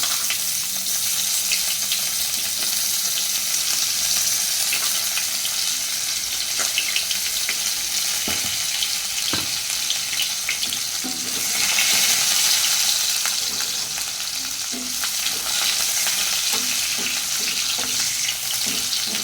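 Black cumin seeds frying in a hot pan, giving a steady, close sizzle with occasional stirring clicks and a brief splash of running water, no voices.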